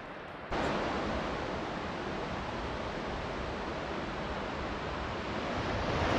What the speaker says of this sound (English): So we're following West Fork Wallowa Creek now. All the creeks are still running pretty high.